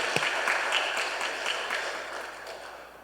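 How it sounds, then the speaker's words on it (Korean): A church congregation at a Sunday worship service claps together, a brisk, moderately loud patter that gradually softens toward the end, with no speech over it. "우리 박수를 한번 격려해 주시기 바랍니다"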